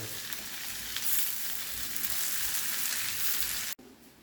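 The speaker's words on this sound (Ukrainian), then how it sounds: "Додаю сюди тепер цибульку і продовжую обсмажувати." Potatoes and onions frying in a pan give a steady, dense sizzle that holds evenly for several seconds and then cuts off abruptly, heard up close with no voices.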